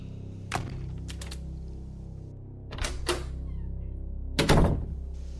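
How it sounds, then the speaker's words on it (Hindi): Three separate bursts of thumps and clacks, like a hotel room window or door being pulled shut and latched, with quiet pauses between them. "होटल रूम के सारे खिड़की दरवाजे अच्छे से बंद किए"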